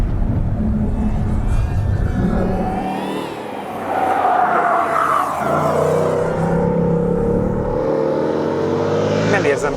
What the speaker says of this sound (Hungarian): az a nagyon szép V8-os hang, ezzel a mennydörgéssel párosítva van.